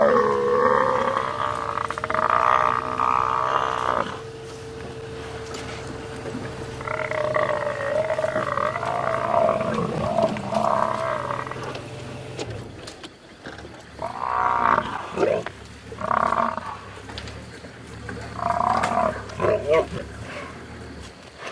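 Lions attack a wild buffalo on a night hunt in the African bush, with deep roars, growls and grunts rising in bursts, loud and close, punctuated by heavy scuffling and strained bellowing.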